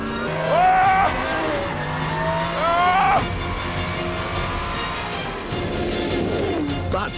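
A Pagani Zonda R race car oversteers through a corner, with two sharp rising tire squeals over its loud engine roar.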